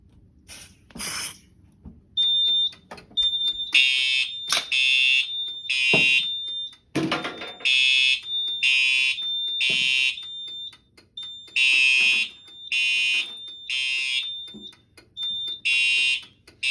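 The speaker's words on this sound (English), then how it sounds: "test the smoke detector" A smoke detector alarm sounds after a smoke test, blaring loud, piercing electronic beeps in repeated bursts with short gaps and a steady high tone beneath, with a few handling noises at the start.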